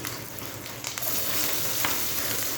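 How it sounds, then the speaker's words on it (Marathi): Asafoetida and curry leaves frying in hot oil for a bitter gourd dish, giving a steady, close, moderately loud sizzle with faint crackles that runs throughout with no talking. "हिंग कढीपत्त्याची पानं टाकायची आहे आणि छान फ्राय करून घ्यायची"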